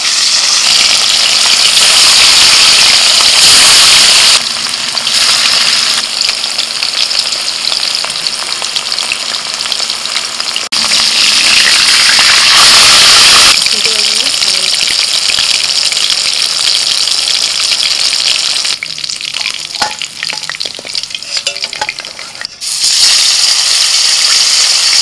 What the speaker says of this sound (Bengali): তেল গরম হয়ে গেছে, এবার মাছটা ভেজে নেব।